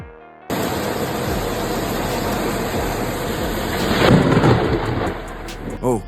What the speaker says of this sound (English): the ground of New Orleans shook as lightning ripped through the sky